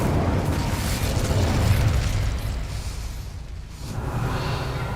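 A fiery Incendio spell blast in the Hogwarts Legacy video game roars out as a broad whooshing burst that swells, fades briefly, then rises again, with no talk.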